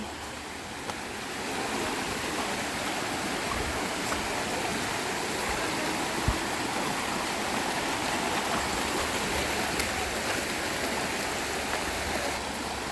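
Steady, close rush of a river or stream running beneath a structure, broadband and continuous throughout with no talk, a few faint knocks within the flow.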